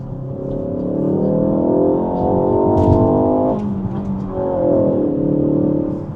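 A manual Ford Focus ST engine in sports mode revs up through a gear with a rich, throaty tone, dips briefly at a shift, then climbs again close by.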